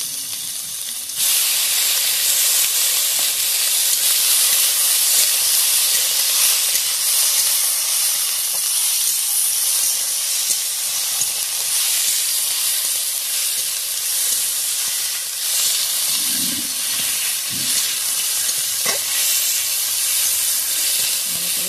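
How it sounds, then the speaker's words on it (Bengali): Tomato and spice masala frying in a pan for a Bengali morola fish jhaal chachori, a loud, steady hiss and sizzle starting abruptly and continuing throughout with occasional soft stirring knocks. "মশলাটাকে এরকম ভালোভাবে কষিয়ে নিতে হবে।"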